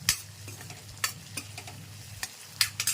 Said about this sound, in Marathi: आलं लसूण पेस्ट पण छान अशी फ्राय होईल